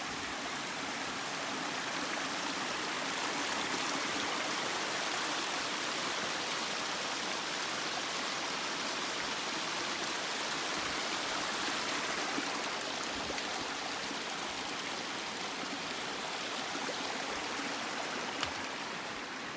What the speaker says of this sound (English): little stream coming off the mountain